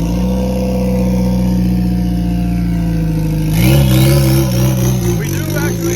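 Subaru WRX engine with a steady mid-pitched drone that jumps and rises sharply partway through as the car is shifted into second gear, the revving close and loud under voices.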